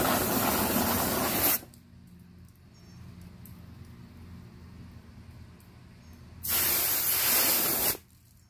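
A pressure washer sprays water over a filthy truck in two loud, hissing bursts, one at the start and one near the end, with quiet gaps between them.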